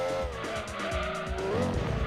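Tires squeal as a car slides through a corner in the Gran Turismo 2 racing game, a sustained screech over a busy engine roar, loud and continuous.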